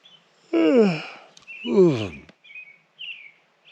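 A bird in a tree gives two loud, harsh squawking calls close by, followed by softer, higher chirps in the quiet early morning air on the Colorado Trail.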